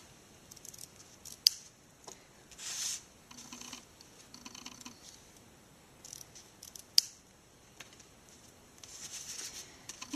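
Scissors trim card paper for a birthday easel card in short snipping bursts, a few sharp clicks standing out, quiet and close with no talking.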